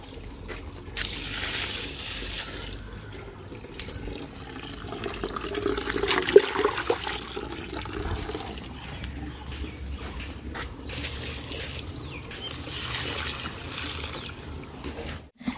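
Water from a pump pours into a container, a soft continuous splashing and trickling that swells slightly midway and stays fairly faint, with no talk.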